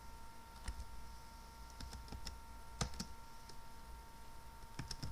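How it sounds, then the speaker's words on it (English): Text is typed on a computer keyboard in scattered bursts of clicky keystrokes, some single taps and some quick runs, close and faint over a low steady hum with no talk. "I will type in here some other text"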